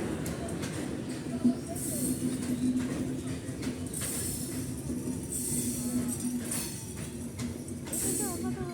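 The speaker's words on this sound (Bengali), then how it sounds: "ওই দেখো বন্ধুরা ট্রেন চলে এসেছে" A train arriving at a station rumbles and clatters steadily, with occasional metallic squeals and hissing bursts, while people talk faintly in the background.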